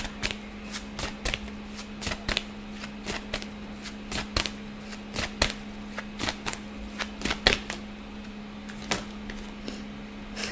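Tarot cards shuffled and drawn by hand, producing a steady series of crisp riffling snaps and flicks at close range over a constant low hum, with no talking.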